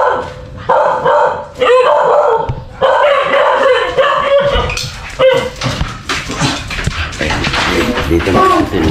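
Several dogs bark and yip in excited bursts close by, some whimpering between barks, with people talking intermittently in the background.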